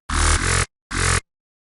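A heavy Native Instruments Massive synth bass, its filter cutoff swept by an LFO, plays two loud, dense bursts: a longer note followed by a short stab, then silence.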